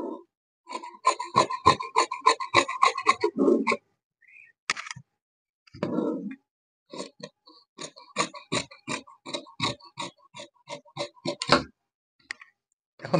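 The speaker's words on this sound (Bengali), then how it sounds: "এই যে এখন আমরা এভাবে কাপড়টি কেটে নিব।" Scissors cut through blouse fabric up close, with quick repeated snips in short runs separated by brief pauses.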